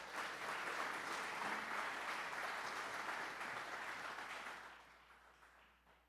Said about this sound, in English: let's give a big round of applause to Seroka